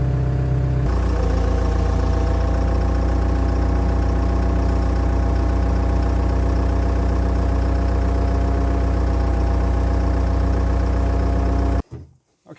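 CAT 206B excavator diesel engine idling at close range, a steady low throbbing rumble that settles after a brief change at the start and cuts off near the end.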